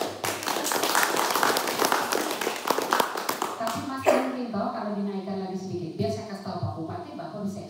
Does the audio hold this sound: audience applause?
yes